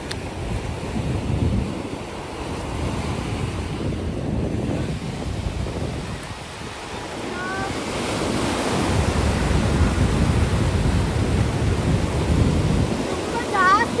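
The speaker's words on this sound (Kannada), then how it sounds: "ತುಂಬಾ ಜಾಸ್ತಿ ಅಲೆಗಳು ಬರ್ತಿತ್ತು." Sea waves on a Sri Lanka beach, a loud rolling surf that swells and washes in continuously, heard close with wind buffeting the microphone and brief voices now and then.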